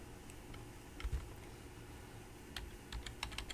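Keys on a computer keyboard tapped while typing short text in CorelDraw, a few quiet scattered clicks in brief bursts against a faint steady hum.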